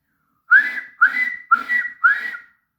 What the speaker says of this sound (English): Whistled Percy